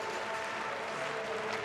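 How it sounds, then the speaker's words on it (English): Crowd applauding at an athletics pole vault event at a university games stadium, a steady, distant wash of clapping with no speech over it. "And the crowd applaud."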